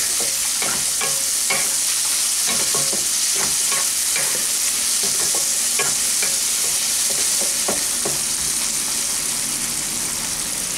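Potato fried rice with peas being stir-fried in a hot pan, a constant loud sizzle broken by repeated scraping strokes of the spatula in an uneven rhythm.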